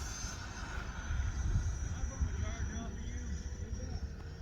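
A Freewing F9F Cougar RC jet with its flaps fully down spools up for takeoff, making a distant, fairly quiet continuous whoosh with wind rumble and talking over it.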